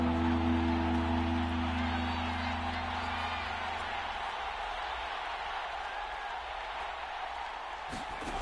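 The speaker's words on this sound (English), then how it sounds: "The crowd getting into it as we come up on a big 3rd down." Crowd noise swells in a PS4 football video game ahead of a big third down, a broad sustained roar with a low drone fading midway, while a commentator talks over it.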